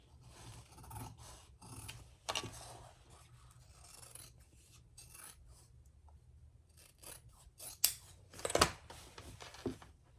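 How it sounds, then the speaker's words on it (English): Scissors trim the seam allowance of a sewn fabric garment. Crisp, close rasping snips come in uneven bursts, with louder cuts near the end and no talking. "I am going to trim my seam allowance, except for that top inch."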